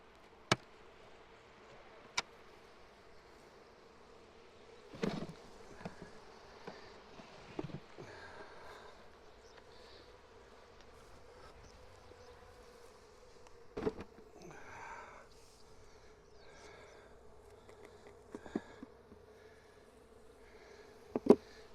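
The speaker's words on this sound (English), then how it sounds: "there's the bees in here" Honey bees hum inside an opened hive: a faint, steady, low drone runs throughout, with scattered soft knocks and clicks from handling the frames.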